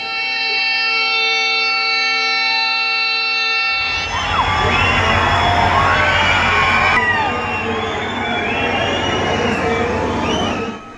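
A train on its first run from Bodinayakanur pulls into the railway station as a crowd cheers and children shout, a dense, loud, continuous roar following a steady horn-like tone.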